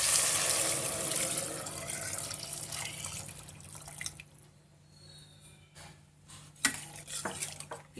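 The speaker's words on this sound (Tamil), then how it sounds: "இப்போ 5 டம்ளர் தண்ணி சேர்க்கிறேன்." Water poured into a pot of sautéed vegetables for proso millet khichdi, a steady rushing splash at first that fades into quieter bubbling with a few sharp pot clinks near the end.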